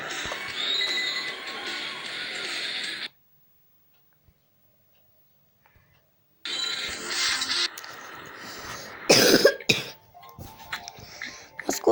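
A man with a cold gives a few rough, broadband coughs and throat-clearing bursts, loud and close, around a long stretch of silence, with a clatter of noises near the end.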